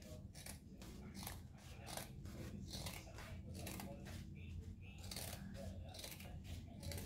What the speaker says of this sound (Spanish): Como esta tela es muy gruesa, tienes que tener unas buenas tijeras